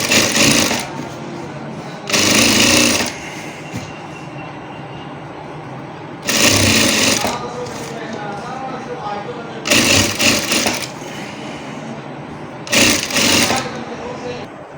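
A sewing machine stitches along the edge of a men's shirt in four loud, close bursts of rapid clatter, each a second or so long, with someone talking between them.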